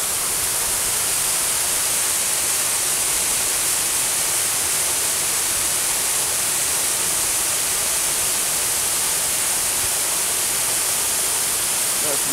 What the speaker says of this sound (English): I thought I'd show you the waterfall.